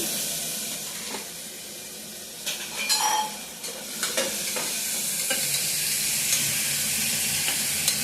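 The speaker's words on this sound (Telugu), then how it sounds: "ఫస్ట్ కొంచెం జీలకర్ర వేసుకుంటున్నామండి. ఆనియన్, కొంచెం ఆనియన్ మగ్గనిద్దామండి." Cumin seeds and onion frying in a pan, a steady broadband sizzle and hiss with a few brief stirring scrapes and clinks near the middle, continuous and fairly close.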